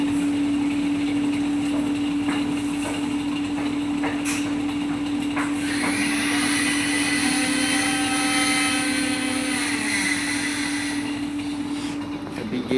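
An LG front-load washing machine with dryer, a new top model, spins at 1200 RPM with heavy vibration and a complained-of noise during the drive cycle: a steady loud motor hum and whine, rising in pitch midway, with occasional knocks.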